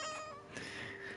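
A cat meows in the video game What Remains of Edith Finch: one drawn-out, wavering, close and clear call.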